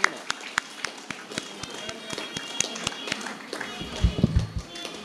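An audience at a family get-together claps in sharp, evenly spaced beats, steady and close, with talk underneath toward the end.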